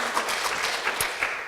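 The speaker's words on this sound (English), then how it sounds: "We might just do another clap." Brief audience applause at a motor neurone disease forum opening, a full, steady rush of many hands clapping together at moderate loudness with no talk over it.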